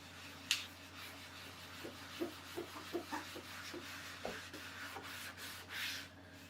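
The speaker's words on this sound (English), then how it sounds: "If I put some alcohol gel on the envelope and rub it" Alcohol gel is rubbed by hand across a cardboard envelope in a quiet room, giving soft, short scuffing strokes in an uneven rhythm over a low steady hum, with a couple of brighter scrapes.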